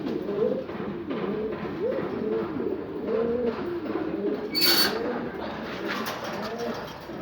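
Pigeons of the Egyptian Ghazzar, Balaq and Sofat breeds coo steadily in a low, rolling series of overlapping calls, close and continuous throughout, with a brief brighter rustle partway through.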